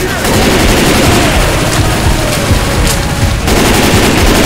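Heavy, continuous gunfire from several weapons aimed at the Tank in Left 4 Dead 2, loud and dense with sharp repeated cracks and booms, cutting off abruptly partway through before resuming.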